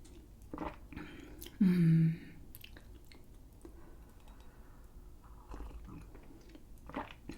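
A British biscuit is bitten with one short, loud crunch close to the ear, then chewed quietly in a calm, intimate setting.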